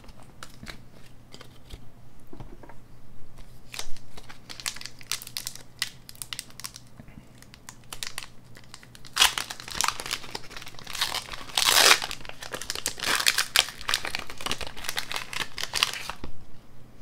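A Pokemon Darkness Ablaze booster pack is handled and torn open, its foil wrapper crinkling and crackling in irregular bursts, growing louder and busier in the second half.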